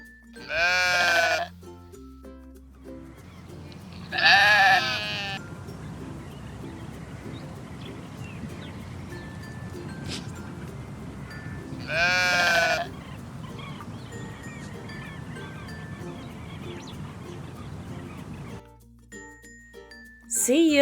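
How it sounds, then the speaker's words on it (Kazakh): A sheep bleats three times in long quavering calls over a soft background music bed with chiming notes and a low rumbling texture between calls. "Қой."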